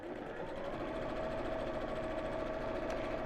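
A sewing machine runs a straight stitch with a fast, even mechanical whir and rapid needle ticking, close and steady throughout, with no talk over it.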